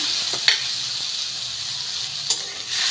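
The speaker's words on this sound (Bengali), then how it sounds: "এবার মশলাটাকে কষিয়ে নিচ্ছি।" Steady sizzling of turmeric and ginger frying in hot oil, with a couple of brief stirring scrapes near the start and end, close and continuous.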